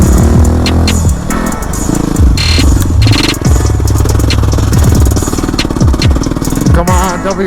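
A Yamaha WR250R dirt bike climbs uphill trails at Hollister Hills SVRA, its single-cylinder engine loud and close, revving hard and continuously with rising and falling pitch through gear changes and throttle blips.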